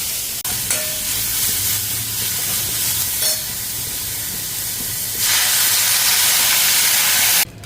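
Cabbage, onion and carrot fry in a pan with a steady broadband sizzle and hiss, punctuated by a few stirring scrapes, growing louder and brighter toward the end before cutting off abruptly.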